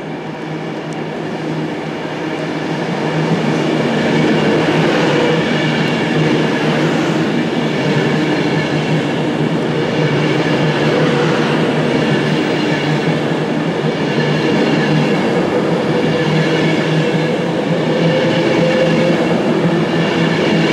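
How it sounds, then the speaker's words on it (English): A Rugby to Liverpool Lime Street passenger train passes through Stoke-on-Trent station, a loud, sustained rumble of wheels and engine that swells after a couple of seconds and holds steady, with faint rhythmic clatter over the rails. "Just outside the station there is a Rugby to Liverpool Lime Street service which is about to pass through Stoke-on-Trent"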